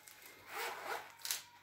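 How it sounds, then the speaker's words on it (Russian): A zipper on a pencil case is pulled open in one quick rasping run lasting about a second, ending with a brighter tug near the end, close by and fairly quiet. "Миш, открой пенал."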